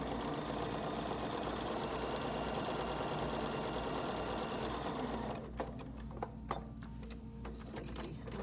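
A sewing machine stitches a foundation paper-pieced quilt block, a loud, close, rapid mechanical whir that runs continuously for over five seconds, then stops, leaving faint handling clicks.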